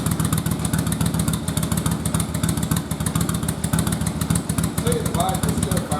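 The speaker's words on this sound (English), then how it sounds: "you'll see that it'll fire up even with no oil at all in the bike" A first-generation Yamaha Virago motorcycle, run with no oil in it, fires up and idles with a steady close-up rhythmic engine chug throughout, loud and continuous.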